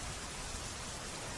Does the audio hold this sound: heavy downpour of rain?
yes